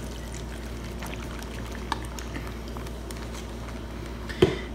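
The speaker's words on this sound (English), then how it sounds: "And then a quart of buttermilk. Just pour it on." Buttermilk poured into a bag holding sliced onions for onion rings, a soft steady glugging pour heard close up over a low background hum, ending with a small rustle of the bag.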